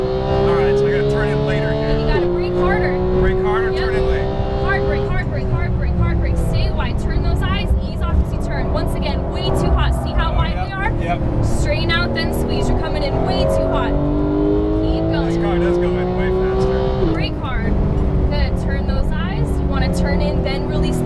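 Porsche 911 GT3 on the Exotics Racing Las Vegas track, engine at full throttle with repeated rising revs and sharp gear changes, loud and close from inside the cabin, an instructor talking over it.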